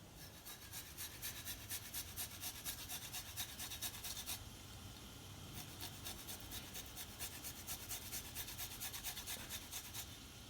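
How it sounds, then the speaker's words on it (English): Peeled fresh ginger is rubbed back and forth on a metal grater for masala chai, giving quiet rhythmic rasping strokes in a steady run with a short pause midway. "Skin is off, and we're just going to use this grater. We're going to grate in the ginger."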